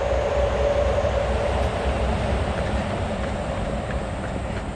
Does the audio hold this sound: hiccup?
no